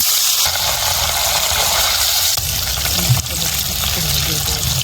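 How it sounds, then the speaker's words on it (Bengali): Steady broadband sizzling of fish frying in hot mustard oil, loud and close, with a brief soft knock partway through. "তেল গরম হয়ে গেছে, মাছ দিয়ে দেবো।"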